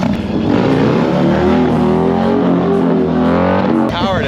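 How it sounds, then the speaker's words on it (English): A Harley-Davidson motorcycle engine rumbles loudly up close as the rider gets ready to wheelie, its revs rising and falling in a steady drone while people talk over it. "All right, homie, it's my turn to wheelie a little bit."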